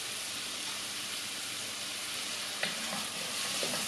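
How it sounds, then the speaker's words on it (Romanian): Chopped onion hitting hot oil with a pinch of salt and fresh pepper, a steady, close, bright sizzle throughout, with a few spoon taps near the end and no talking. "Când acesta s-a încins, adăugăm ceapa."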